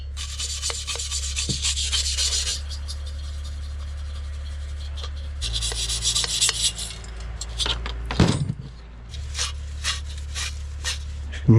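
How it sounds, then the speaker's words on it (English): A small steel brush scrubs the inside of a heater, giving close rasping bristle strokes in bursts, some sharp scratchy passes and light metallic knocks, over a low steady hum. "you're going to need a little steel brush to get in there and just clean the inside out"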